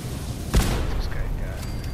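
A single boom bursts out in Fallout 4 and rumbles briefly under ongoing game sound and a talking voice, with faint background effects after.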